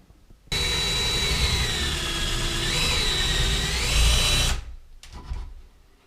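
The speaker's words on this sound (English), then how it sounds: "first thing you gotta do is drill a hole where you want in the placement of the door" A power drill whines steadily for about four seconds while drilling a hole in a door, its pitch shifting slightly as it bites, then stops, followed by brief faint handling noise.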